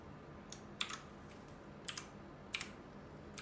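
Sparse keystrokes on a Lingyi K52 mechanical keyboard, a handful of separate clicky taps spaced irregularly over a soft background hiss, faint and close.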